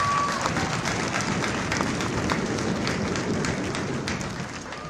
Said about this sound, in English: Let's give a nice round of applause to Miss Charlie Harper